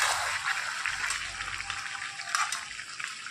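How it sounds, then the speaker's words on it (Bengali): Meat being braised and fried with spices in a pan, giving a steady close sizzle and crackle with faint stirring scrapes throughout, no talking. "আর এদিকে দেখো মাংসটা কষানো চলছে"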